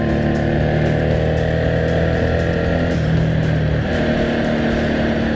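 FKM Victorino 250i fuel-injected 250 cc motorcycle engine droning steadily while riding through corners, a loud continuous hum with wind rush and a slight pitch shift partway through, no voices.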